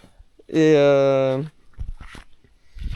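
A dog at a campsite on a bike-trailer trip gives one close, drawn-out whine lasting about a second, followed by soft rustling and movement noises.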